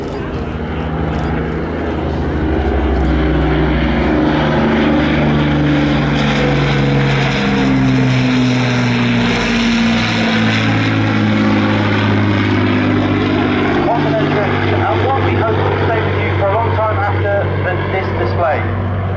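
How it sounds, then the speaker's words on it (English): Propeller-driven warbird engines roar loudly and steadily as aircraft make their approach at the RAF Cosford Airshow, a deep droning throb that swells and holds, with engine tone shifting as they pass. "I'd like to give you a moment to appreciate the roar of the iconic engines as they make their approach now."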